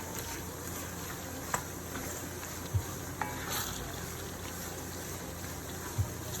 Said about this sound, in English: Then mix it all up together.